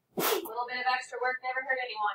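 One sharp sneeze bursts out in a fourth-grade classroom during a math lesson, followed at once by a teacher speaking.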